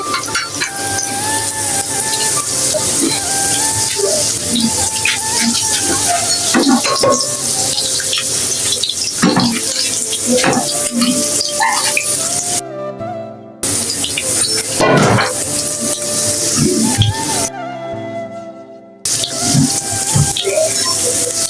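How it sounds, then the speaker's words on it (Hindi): Chicken nuggets sizzle and crackle steadily in hot frying oil, a dense continuous hiss with scattered pops, loud and close throughout, briefly dropping out twice. "अब यहाँ से भी हम 3 मिनट के लिए फ्राई करेंगे।"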